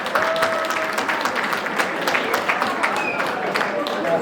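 An audience claps for the host at an evening gratitude and awards ceremony. Brisk, crisp hand claps form a steady, fairly close burst that holds throughout, with some faint voices and a thin tone underneath.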